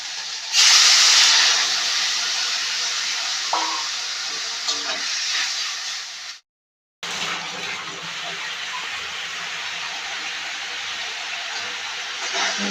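Pointed gourd (potol) simmers in a little water in a pan for potol posto, a continuous close hiss and bubbling that cuts out briefly partway through, then resumes.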